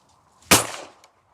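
A single shotgun shot fired outdoors at a clay shooting ground, one sharp loud blast that decays over about half a second, followed by a faint click and then quiet.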